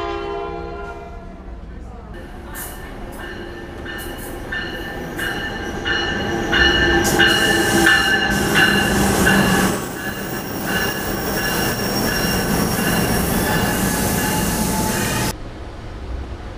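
A New York subway train at Penn Station: a loud, close rumble of rail cars with squealing wheels and a steady tonal hum, lasting most of the stretch before cutting off near the end.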